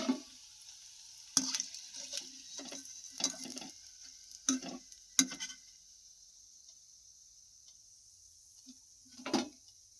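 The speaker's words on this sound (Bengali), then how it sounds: "তো দেখো আমার নেড়ে চেড়ে ভাজা হয়ে গেছে বড়া" Banana fritters deep-fry in a pan with a soft, quiet sizzle, broken by a series of sharp metallic clinks and scrapes as a utensil stirs them, about eight hits spread unevenly, then a calmer stretch.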